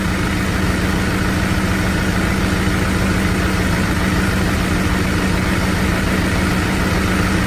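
A car engine idles steadily and close by, a continuous low rumble with an even vibration throughout and no talking.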